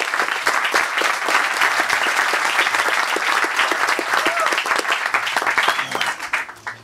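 An audience at a round-table panel on video game studios claps steadily and loudly for several seconds, a dense wash of applause that tapers slightly at the end.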